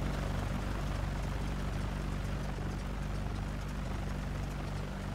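Aircraft engine in the X-Plane flight simulator, a steady low droning hum with a constant pitch that holds at a moderate level throughout, with no talking over it.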